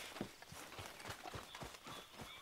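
Faint hooves clip-clop in a quick, uneven rhythm, with a horse moving at a distance and no talking.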